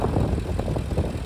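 The engine of a 2015 Ford E-350 Super Duty 16-foot box truck with a flex-fuel engine runs smoothly and steadily, a low, even rumble heard up close with no voices.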